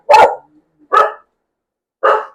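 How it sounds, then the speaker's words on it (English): Dogs let outside bark three times in separated, loud, close bursts, each short and sharp with pauses between, with no one talking. "I'm letting my dogs out. So they're going to bark."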